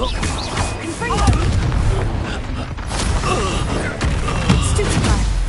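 An explosive spell goes off in the Hogwarts Legacy video game, a loud, rumbling blast with creaking and crackling debris. Combat effects thud in layers around it through a busy battle scene, and a voice talks under the noise.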